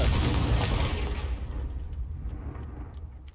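A Confringo fire spell explodes in the Hogwarts Legacy video game: a loud, deep boom rumbles at the start, then fades over a few seconds, with faint clicks trailing behind.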